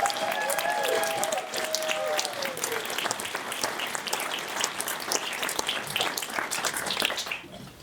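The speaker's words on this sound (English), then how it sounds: "Let's give him a big arena-like round of applause." A large keynote audience at a tech conference bursts into loud, sustained applause, dense clapping filling the room for several seconds before tapering at the end, with a few faint voices underneath.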